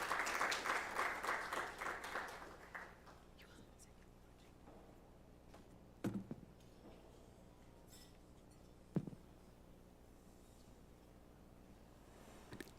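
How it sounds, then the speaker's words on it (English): An audience claps at a national shadow budget launch event. A brief burst of applause fades over the first few seconds, then gives way to quiet room tone broken by a couple of sharp knocks. "You can give her a clap as she comes."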